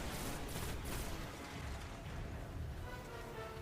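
Dense, rapid gunfire aimed at a Hive enemy's head in the video game Destiny, Taken King DLC. The volleys are loud and close, with a steady roar of shots and sharper bursts near the start.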